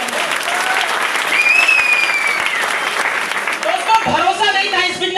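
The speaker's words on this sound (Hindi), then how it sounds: "राजन सिंह सर और संतोष सर के लिए एक बार जोरदार तालियां" A large business-meeting crowd claps loudly and continuously for the leaders, a thick wall of applause with whistles and a few voices calling out over it.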